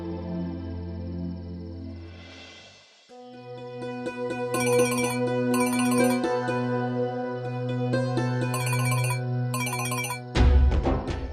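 A phone ringtone plays a steady electronic melody of sustained tones and chiming bursts, clear and fairly loud, ending in a short clatter as the call is answered.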